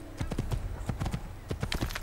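Rapid rhythmic hoofbeats of a galloping white horse in the video game Assassin's Creed, a steady clip-clop pattern repeating quickly and close by, with no voices.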